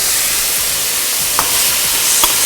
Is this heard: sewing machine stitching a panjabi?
no